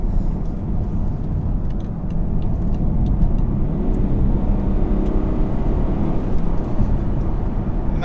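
A 2018 BMW X6 30d diesel SUV accelerates from 54 to 70, its engine drone and road rumble steady and loud from inside the cabin with a slight rise in pitch.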